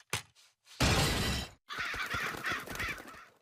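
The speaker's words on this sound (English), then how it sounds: "those crows keep getting in." Cartoon crows caw loudly inside a house, a harsh burst of cawing with a crash-like noise, followed by a longer run of repeated caws close by.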